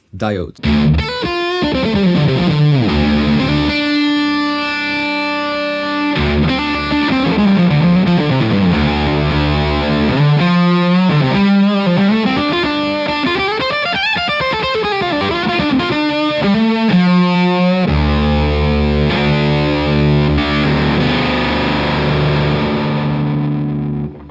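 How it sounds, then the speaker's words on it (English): A heavily distorted electric guitar through an AS Pedals Sugar Fuzz octave fuzz pedal, fuzzy and octave-doubled, plays riffs and sliding bends, loud and continuous throughout. "There's a ton of super cool Octave Fuzz sounds"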